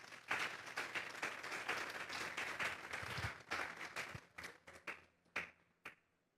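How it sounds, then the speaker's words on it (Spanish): Church congregation applauding the Lord during a sermon, a dense burst of clapping that thins out into scattered separate claps before fading. "Vamos a darle un fuerte aplauso pues al Señor."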